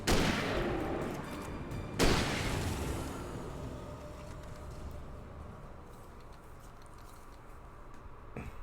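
Two loud hunting-rifle shots in the video game Alan Wake, about two seconds apart. Each one booms up close and then fades into a long echoing tail.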